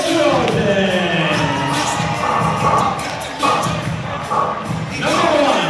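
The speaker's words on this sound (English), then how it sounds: "Trojans fans, it's time to get on your feet and cheer on as we introduce your Barnesville Trojans" A gym crowd at a high school boys' basketball game roars and cheers for the Barnesville Trojans, with loud, continuous noise, thumping stomps and a public address voice talking under the din.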